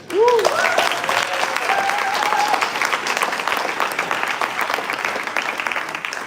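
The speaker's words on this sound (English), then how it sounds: "So please, an applause for Liz Oladia Calderon" Audience applause at a university engineering science slam, a steady wash of clapping that starts abruptly and carries on for several seconds, with a brief whoop or voice near the start.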